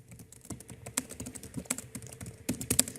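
Quiet, irregular clicking of a computer keyboard as a message is typed, with keystrokes in short bursts and a few louder taps, close and alone.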